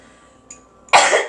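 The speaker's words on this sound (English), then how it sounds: "I'm going to cough because my throat wants to be cleared" A single person's cough clears the throat: a faint short catch first, then one loud harsh burst close by, alone with no talk.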